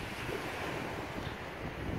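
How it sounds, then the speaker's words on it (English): Steady wind gusting across an open beach after rain, buffeting the microphone with a constant low roar and breaking surf mixed underneath, with no voices. "Still a bit windy though."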